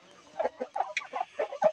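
Native Palawan chickens cluck in a breeding pen, a quick string of soft, close clucks repeating in an uneven rhythm.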